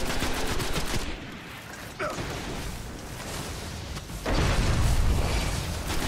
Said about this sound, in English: That's a good grenade, I like it.